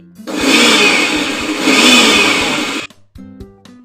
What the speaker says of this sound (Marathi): हे ताक ह्या मिक्सरमध्ये फिरवून घेते